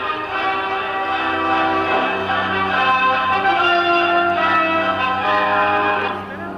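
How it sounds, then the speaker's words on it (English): An aerobatic propeller aircraft performs an inverted flat spin overhead at an air fair, giving a loud, steady droning engine tone with rich harmonics that holds throughout and eases off slightly at the end. "directly overhead is Drew Hurley performing the inverted flat spin"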